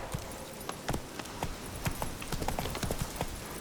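Horse hooves clip-clop at a steady riding gait in The Witcher 3, a run of sharp, evenly spaced knocks close by over a soft background bed.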